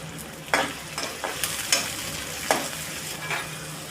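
Two onions frying in a pan for the tempering of a Konkan-style potato and prawn curry, a constant soft sizzle marked by repeated sharp scrapes and clacks of stirring.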